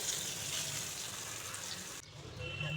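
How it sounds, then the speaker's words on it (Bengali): Brinjal pieces seasoned with salt and turmeric frying in oil in a wok, a continuous soft hiss and crackle throughout, briefly dipping then resuming. "বেগুনগুলোকে লাল লাল করে ভেজে নেব।"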